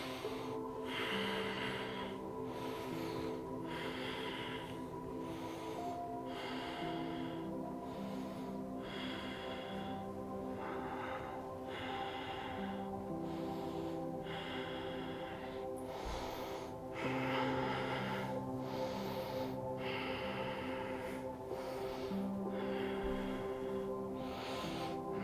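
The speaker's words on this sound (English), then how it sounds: "and begin long, deep breathing." Long, deep breaths during a Kundalini yoga pose draw in and out in a slow, steady rhythm, with each inhale and exhale clearly audible over faint background music.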